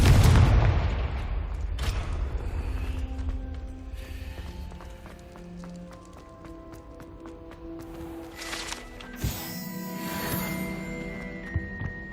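Blasting Confringo spell from the Hogwarts Legacy video game: a loud booming burst opens the passage, followed by further crackling blasts near the end over layered game ambience and music, with no talking.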